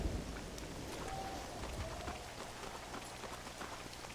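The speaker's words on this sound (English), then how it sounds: "a big thunderstorm and rain and lightning and all that" Steady rain hissing through a thunderstorm in the Red Dead Redemption video game, a dense even wash of falling water with a faint low rumble underneath and no talk.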